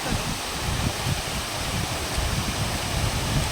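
A waterfall in a forest near tribal villages, with low water flow, gives a steady broadband rush of falling water that holds constant throughout with no voices.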